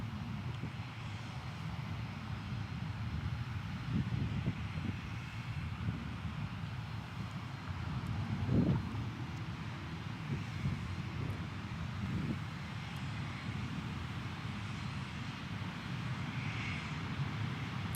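An airliner taking off at Dallas Love Field heard from outside the airport, a distant steady engine roar with wind rumble that swells slightly midway and stays fairly faint throughout, with no voices.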